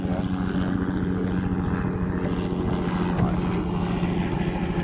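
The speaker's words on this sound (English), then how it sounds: "the helicopter, definitely." Aircraft engine and rotor drone held steady over open water near the Perdido Key reef off the Florida coast, loud and continuous throughout with no talk.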